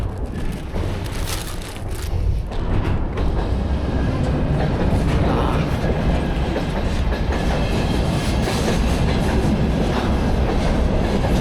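A train races past in Mongolia's Gobi Desert, a loud, close, continuous rumble with rhythmic clickety-clack of wheels on rail joints that holds steady for the whole stretch.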